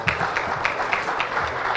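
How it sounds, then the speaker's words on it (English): A symposium audience gives a round of applause for an award recipient, soft steady clapping from many hands in a hall, with a few louder claps standing out. "Big round of applause for Dr. Saab."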